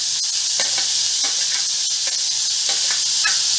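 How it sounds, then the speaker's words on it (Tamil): Beans, carrot and cabbage sizzling and hissing steadily in a hot pan, with soft stirring scrapes repeating through the continuous frying noise and no talk. "இதெல்லாம் சேர்த்து வதக்கிக்கிறேன்"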